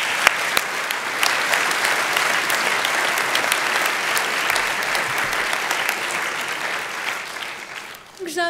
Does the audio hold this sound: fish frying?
no